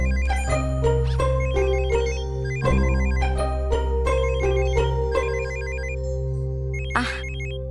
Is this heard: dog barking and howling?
no